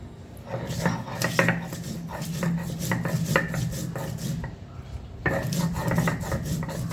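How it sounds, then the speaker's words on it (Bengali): Fried black cumin, onion, garlic and dried chilli are ground into a paste with repeated close rasping, rubbing strokes in a steady rhythm, briefly pausing near the end before resuming. "ভাজা কালো জিরা, পেঁয়াজ রসুন শুকনো মরিচ দিয়ে বেটে নেব।"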